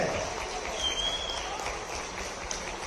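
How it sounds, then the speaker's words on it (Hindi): An audience at a public event welcoming the chief minister keeps up steady applause, a dense, moderately loud patter of clapping in a large space with a voice faintly under it. "देवियों सज्जनों, तालियां बजती रहनी चाहिए।"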